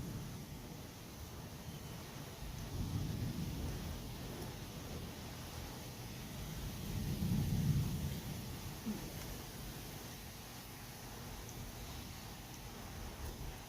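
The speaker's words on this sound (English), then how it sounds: "every once in a while, you might hear some thunder" Low distant thunder rumbles twice, swelling and fading under a steady hiss of rain.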